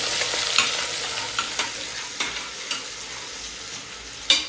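Onion sizzles in hot oil with cinnamon and cloves in a home kitchen, a continuous close crackle broken by regular spatula scrapes and stirring clicks, with a sharp clack at the end.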